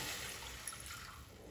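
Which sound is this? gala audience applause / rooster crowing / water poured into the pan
water poured into the pan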